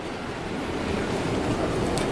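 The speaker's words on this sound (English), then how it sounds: "But there's the ocean right there." Ocean surf rolls steadily onto the shore at Vero Beach, Florida, a continuous broadband wash with some wind buffeting the microphone, no voices.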